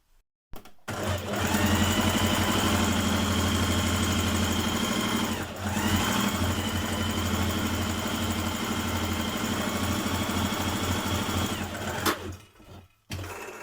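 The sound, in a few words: sewing machine stitching dress back pieces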